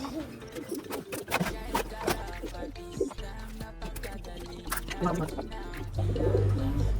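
Racing pigeons coo at a backyard loft amid a busy, cluttered scene, soft repeated throaty calls mixed with flapping and rustling while someone talks over them throughout.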